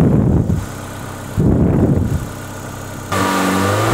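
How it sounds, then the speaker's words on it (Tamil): A used car's engine is revved in three loud surges close by, the last one held higher with a steady whine, while it idles roughly in between. "இந்த வண்டியோட இன்ஜினு ரைஸ் பண்ணுங்க."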